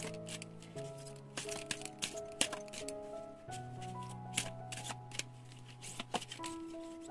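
Tarot cards are shuffled, slid and drawn from a deck, with soft rustles and light taps scattered across the clip, heard under quiet background music.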